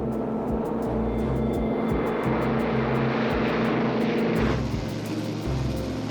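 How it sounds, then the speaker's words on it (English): TWA propeller airliner taking off from a runway, a loud steady engine roar with rhythmic propeller beating that swells and then shifts in tone as the aircraft accelerates away, alone without voices. "TWA-2 cleared for takeoff on runway 25 right."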